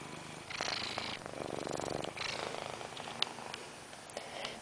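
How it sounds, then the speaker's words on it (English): A cat purrs steadily and close up, a soft rhythmic rumble with a few faint clicks and rustles around it. "You're purring so much"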